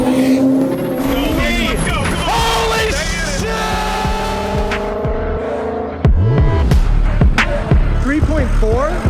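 A 1000hp 6.0 Powerstroke truck launches hard, its engine climbing through loud revving sweeps with a sharp burst near the end, while people talk over it.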